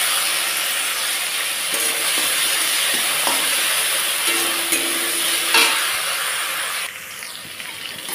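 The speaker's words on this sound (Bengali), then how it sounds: "এখন ভালোভাবে আলুটাকে ভেজে নেব।" Potatoes frying in a pan for a dhenki shak (fiddlehead fern) dish, hissing in a loud continuous sizzle broken by scraping stirs of a spatula.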